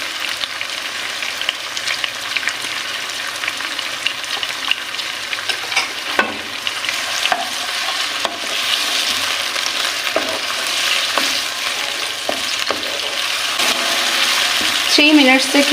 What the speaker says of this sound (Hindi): थ्री मिनट्स तक यहाँ पे हम चिकन को फ्राई करेंगे लहसुन अदरक की पेस्ट के साथ